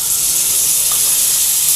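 Spices and curry leaves frying in hot oil in a pan for Andhra-style tomato chintakaya pachadi, a steady, dense, bright sizzle holding level throughout with no talk.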